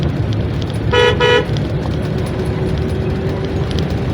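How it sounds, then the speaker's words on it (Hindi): Two short, loud car horn honks in quick succession over steady road rumble, with no voices. "फ्रेंड्स हॉर्न रखें आप गाड़ी का अच्छा वाला"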